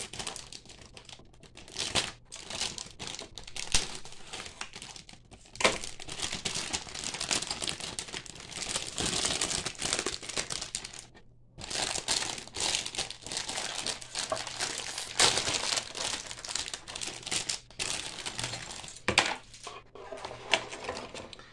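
Plastic packaging around a sheet of decals for a MiG-17 scale model kit being opened by hand, giving continuous close crinkling and rustling with sharp clicks and brief pauses, no talk.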